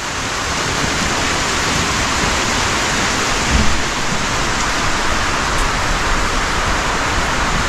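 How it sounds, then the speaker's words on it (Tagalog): Heavy rain pours down on a farm in a steady, loud, dense hiss, a constant roar with no pauses and a brief heavier patter partway through. "Pabuilo-builo yung ulan mga boards."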